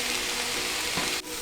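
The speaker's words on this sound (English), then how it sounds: "So I'm going to saute this for about 3 to 4 minutes again." Rishi chi bhaaji vegetables sauté in butter, giving a close, steady sizzle and frying hiss with a brief stirring scrape near the end.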